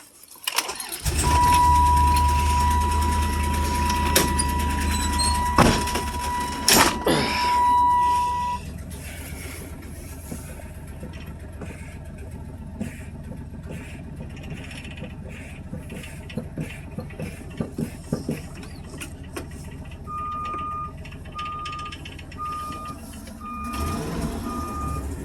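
A 2002 Dodge Ram van bus starting and driving around a cul-de-sac: a loud engine rumble with a steady reversing beep early on, then a quieter idle with rattles and clunks, and intermittent beeping again near the end.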